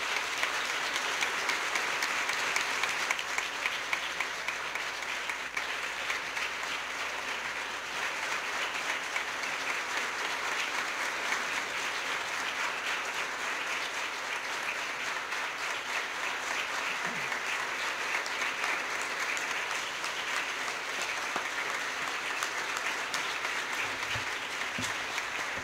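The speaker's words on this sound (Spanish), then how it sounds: "quiero pedirles que le demos un fuerte aplauso a Dios por la vida de mi papá" A congregation applauds steadily throughout a memorial thanksgiving service for a pastor and professor, a dense, sustained wash of many hands clapping at moderate distance with no break.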